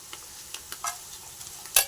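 Roasted gram tumbles into garlic frying in hot oil, giving a soft sizzle with light scattered ticks and a sharper clatter near the end, quiet and close with no talking.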